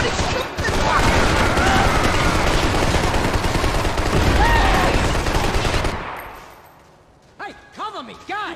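Dense, continuous gunfire from a Max Payne 3 shootout roars loud and close for about six seconds, then cuts off abruptly, leaving faint whistling tones and quiet trailing sounds.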